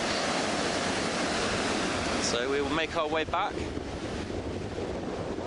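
An incoming tide rolls onto the shore as a constant roaring wash of surf, heavily mixed with wind buffeting the microphone, while a voice speaks briefly midway.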